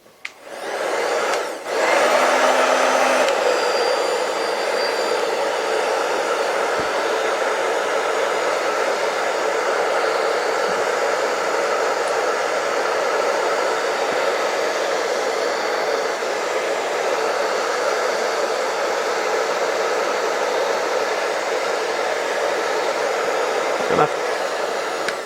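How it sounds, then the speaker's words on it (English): A hair dryer blows steadily on leather wading boots, a loud continuous whooshing roar that starts after a brief click and runs unbroken for about twenty-five seconds, with faint handling knocks. "So let me get started with a hair dryer."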